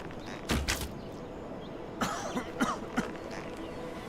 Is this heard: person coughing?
yes